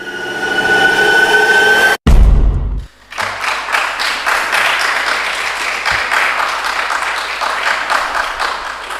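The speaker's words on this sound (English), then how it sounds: "let's welcome them with a hearty round of applause as they receive the trophy" An audience applauds as champions receive the trophy at a tertiary business quiz championship zonal final, steady sustained clapping following a brief stretch of music and a low thump.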